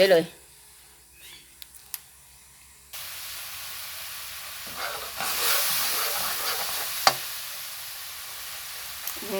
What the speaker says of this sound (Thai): ผัดเครื่องแกงหอมแล้วเราก็จะใส่ไอ้นี่ ใส่ไอ้ ไอ้พวกเครื่องปรุง